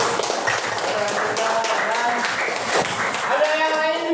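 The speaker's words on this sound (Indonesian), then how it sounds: "terima kasih tepuk tangan untuk" Students in a classroom applaud a classmate with a short burst of scattered hand claps, mixed with voices speaking over it.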